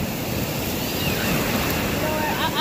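Ocean breeze and surf at Myrtle Beach: steady broadband roar of waves with wind buffeting the microphone, continuous and fairly loud for the whole short stretch.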